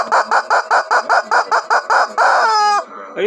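A rooster clucks in a rapid series of loud, close pulses that run into a long, drawn-out crow, trailing off at the end.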